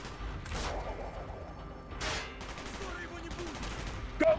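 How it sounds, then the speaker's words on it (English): Gunfire in a video game: scattered bursts of shots and sharp cracks, with a distant rattle between them and some background commotion, finishing in a loud close blast at the very end. "Gunfire's drawing attention."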